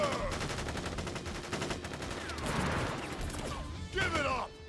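Soldiers fire guns in a battle in the video game Final Fantasy 7 Crisis Core, with dense bursts of gunfire and crashes running steadily throughout under game voices and music.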